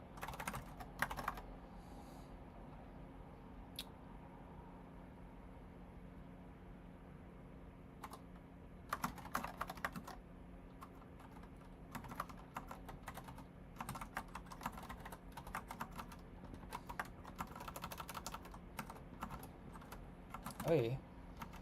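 Computer keyboard typing during a coding session, soft clustered bursts of key clicks separated by pauses, close and quiet, with occasional talk.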